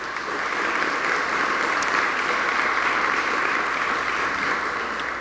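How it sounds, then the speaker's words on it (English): At a mayor's community family night, an audience gives a sustained round of applause for teachers, a steady wash of many hands clapping that stays even and moderately loud throughout. "Wave your hands so we can give you a round of applause."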